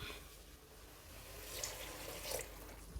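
Water pours into a pot of rice and moong dal for khichdi, a quiet, brief gush and splash with faint bubbling in a kitchen.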